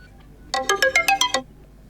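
A Motorola Moto G86 5G alarm clock melody: a short run of about seven bright electronic chime notes in quick, even rhythm, clear and close, with no other sound around it.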